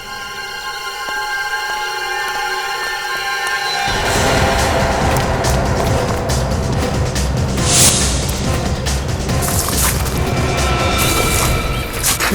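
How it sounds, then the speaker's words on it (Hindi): Gunfire and heavy crashing inside a ruined, abandoned college building, a loud sustained burst of booming, rattling impacts that erupts after a quieter stretch and continues dense and close to the end. "गोली चलने की आवाज अंदर से आई।"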